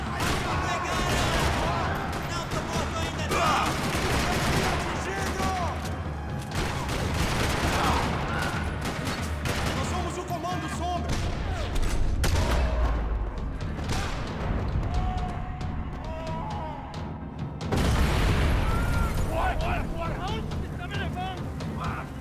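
Gunfire rattles across a parking lot in Max Payne 3, bursts of shots layered over dense game noise, music and a voice speaking, fairly loud and continuous.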